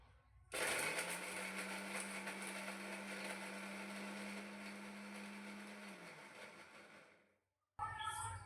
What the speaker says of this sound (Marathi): तर आता मी हे वाटण आपलं पहिला वाटणार मी खोबरं